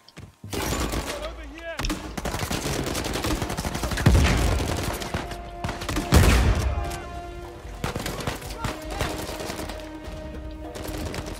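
Rapid bursts of automatic gunfire from enemies in Uncharted 4, loud and close, with heavier shots standing out among the continuous rattling volleys.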